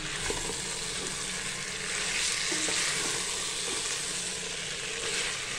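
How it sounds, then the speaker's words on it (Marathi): Vegetables and paneer stir-fried in oil for veg biryani, the paneer having been fried earlier in the same oil as the onions; a steady, close hiss of sizzling with light scraping stirs throughout, no talking. "छानपैकी भाजी आता आपल्याला अशी परतवून घ्यायची"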